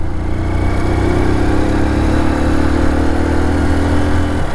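Motorcycle engine pulling away from a stop and accelerating as the rider shifts up from first into second gear, a loud, close, steady droning roar with the pitch climbing in stages.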